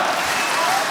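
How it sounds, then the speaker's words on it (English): A riled-up boxing crowd in the arena cheers and chants a fighter's name during a bout, a dense, steady roar of many voices filling the whole second at constant loudness. "The crowd is riled up."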